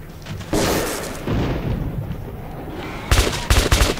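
Machine gun fire in the first-person shooter Metro 2033 Redux; loud bursts of rapid gunshots, a long stretch early on then choppy, punchy volleys near the end, with no voices.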